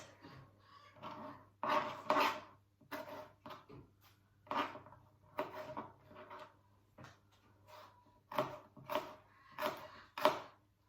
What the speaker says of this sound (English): going to use my knife to chop it into small pieces before adding it to the chicken